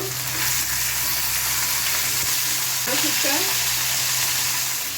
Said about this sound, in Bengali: এবার আস্তে করে এটা পাল্টিয়ে দেবো মাছগুলো